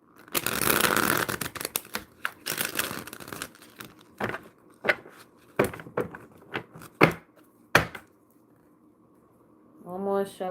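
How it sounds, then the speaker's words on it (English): Tarot cards shuffled in quick riffling bursts, followed by several separate soft slaps and taps, close and quiet with no talking. "One more shuffle"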